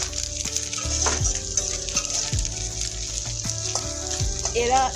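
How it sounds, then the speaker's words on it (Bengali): Fish eggs fry in a pan with a steady bubbling sizzle, loud and close, under a constant hiss of hot oil alongside clanks and a gentle background tone. "ডিম কিন্তু এখন কিন্তু বেশ ফুটতে শুরু করে দিয়েছে। দেখো শব্দটা শুনতে পাচ্ছ আশা করি।"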